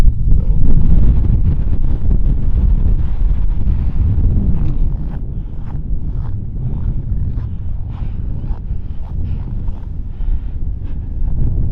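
Loud, constant wind in the North Dakota Badlands roars across the microphone for the whole stretch, a heavy low buffeting that barely lets up.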